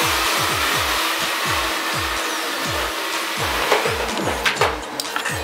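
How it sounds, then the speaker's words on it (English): A hair dryer blows a man's hair upward for volume during Korean-style styling, giving a steady close airy whoosh with a repeated low pulsing rhythm and a few faint brushing clicks toward the end. "We're just going to blow dry his hair up to get that volume in there."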